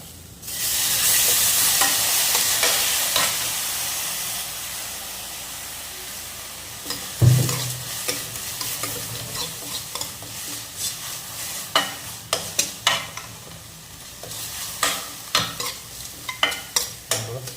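Ginger garlic paste sautéing in hot oil for a mutton gravy, a steady loud sizzle with a sharp burst around the middle and repeated spoon scrapes and stirs against the pan throughout.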